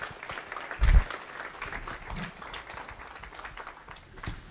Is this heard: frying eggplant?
no